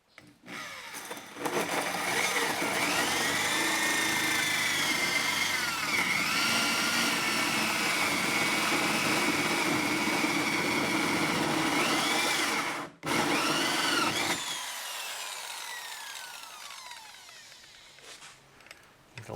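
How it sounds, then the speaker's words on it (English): A power drill bores a hole to mount a fill port while a Yamaha FXHO WaveRunner is rigged for fishing. The whining motor runs steadily and close for over ten seconds, cuts out briefly, then resumes and winds down to a stop. "about to drill this hole now, get that fill port mounted"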